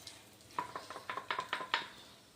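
A spoon scrapes and stirs a peanut powder mixture in a pan over low heat, about eight quick, close strokes in a loose rhythm over a faint sizzle, with no talking.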